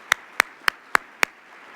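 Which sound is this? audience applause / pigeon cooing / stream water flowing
audience applause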